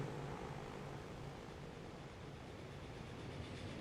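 A train running in the Transport Fever 2 game gives a faint, steady rolling rumble with soft noise-like hiss, continuous and distant throughout.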